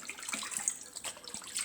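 Salt mackerel is rinsed under a running kitchen tap, with a steady close hiss of splashing water and small irregular spatters as the fish is handled.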